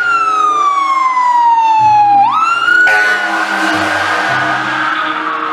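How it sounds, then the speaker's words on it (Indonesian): A red-and-white toy fire truck with a ladder sounds its electronic siren: a loud, steady tone that slides downward, jumps back up, then holds a wavering wail, with no talking. "ini mobil pemadam kebakaran"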